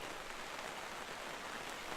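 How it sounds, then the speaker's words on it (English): Rain falling in the farming video game Farmer's Dynasty, a dense, even hiss of steady rainfall with no breaks or voices over a short stretch. "And it's raining."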